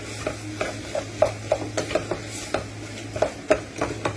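Tomato puree being stirred into a bolognese in a pan: a run of soft, irregular scraping and squelching stir strokes roughly every half second, close and moderately quiet over a faint steady hum, no talk.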